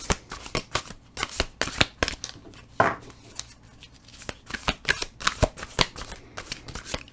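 Tarot cards being shuffled by hand for a love reading, a rapid run of crisp papery riffles and flicks, fairly close and steady throughout, with no talking.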